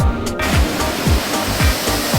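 Tigunungan waterfall in Bali roars in a steady, loud rush of falling water, continuous and close, with no voices.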